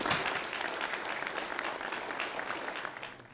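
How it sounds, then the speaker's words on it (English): A round of applause from an audience at a facilitated discussion-based exercise, brisk clapping from many hands that starts strongly and gradually eases off. "I'd like you to join me for a round of applause for the superb organization that I've seen so far."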